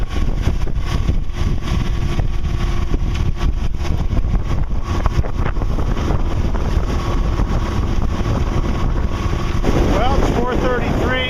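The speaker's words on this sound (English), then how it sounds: "So far the motor's been pretty strong." A sailboat's motor drones steadily as the boat moves at about four knots on open water, with constant wind buffeting the microphone and a brief chirpy rise of higher sound near the end.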